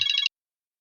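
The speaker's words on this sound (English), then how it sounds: "sorry, my phone rang." A mobile phone rings with a short, bright electronic ringtone burst lasting under a third of a second, then cuts off abruptly into silence during a meeting, loud and close, with no talking.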